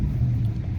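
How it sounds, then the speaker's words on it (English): A 2015 Chevy Silverado LTZ pickup engine rumbles low and deep for a moment, a short throaty exhaust rev that holds steady then eases slightly. "let's do a little exhaust rev"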